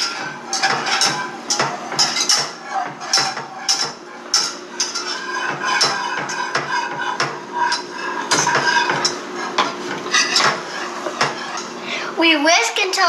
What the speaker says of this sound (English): We whisk until it clumps together.